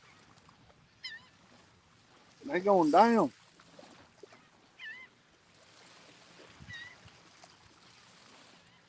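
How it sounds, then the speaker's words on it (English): Birds, likely geese, honk in short calls while flying past a surf fishing spot at sunrise. A louder burst of rising calls comes in the middle, with fainter calls before and after, and someone speaks briefly. "Starting to get some birds moving through here."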